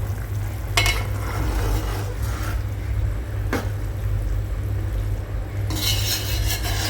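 Chicken pieces for a chicken pickle simmer slowly over low heat with salt and turmeric, giving a steady soft sizzle while a utensil stirs and scrapes the pan in a few brief clinks, with no voices.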